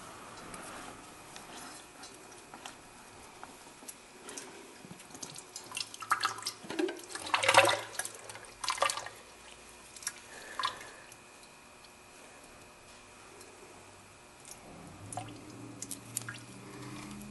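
Engine oil drains from a 2010 Lexus IS 250 during an oil change, heard as soft, irregular drips and wet splashes, quiet overall with a brief cluster of louder splatters midway.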